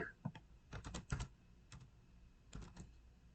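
Soft, close computer keyboard typing in quick irregular bursts of keystrokes with short pauses, quiet and without talk.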